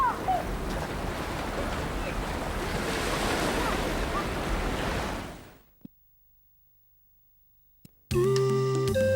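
Sea waves wash and roar with wind buffeting the microphone, then the sound cuts out abruptly into near silence before different audio begins.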